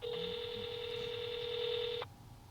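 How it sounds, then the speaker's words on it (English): A telephone keypad tone sounds once, a single steady electronic beep of about two seconds, clear and isolated over faint background hiss. "To go directly to voicemail, press star."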